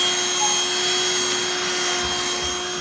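A Black+Decker Dustbuster cordless handheld vacuum cleaner runs with a steady, loud motor whine and airflow hiss, unbroken throughout, with no voices.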